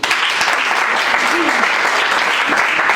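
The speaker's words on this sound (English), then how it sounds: "Can we clap for him again?" An audience at an annual general meeting applauds loudly and continuously, a dense, even wash of many hands clapping close by for about three seconds.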